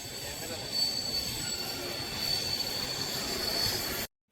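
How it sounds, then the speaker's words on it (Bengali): A train passes on an afternoon outing, its wheels squealing in a thin sustained metallic tone above a low rumbling rush of rail noise. The sound is fairly faint and steady, then cuts off abruptly. "দারুণ লাগছে না ট্রেনটা দেখতে?"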